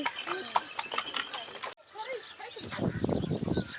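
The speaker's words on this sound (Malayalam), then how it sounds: "കുതിര വണ്ടി പോകുന്ന കുതിര വണ്ടി" A horse-drawn cart passes on a UAE organic farm, its hooves clip-clopping in a steady rhythm close by, with people talking over it.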